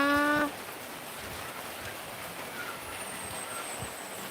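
Rain falls in northern Thailand in cool weather, a steady soft hiss that continues throughout. A brief tonal animal-like call sounds at the very start.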